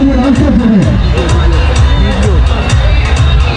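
Dense crowd noise at an Eid Milad un Nabi celebration in Jodhpur, a steady loud hubbub of many voices with faint cheering throughout, close and continuous.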